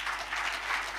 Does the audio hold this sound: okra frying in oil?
no